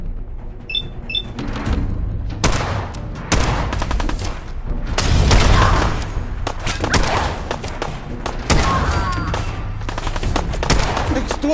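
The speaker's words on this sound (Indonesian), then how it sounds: "Suara kayak tembak. Ada yang perang, cok." Gunfire in the video game Fallout 4, a rapid series of loud, sharp shots in bursts throughout, mixed with game sounds and occasional talking.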